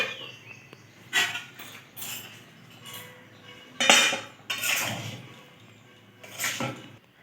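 A pot lid lifts off a pan of freshly cooked spiced rice, followed by scattered metallic clinks and scraping bursts of utensils handling the rice, heard close with quiet gaps between.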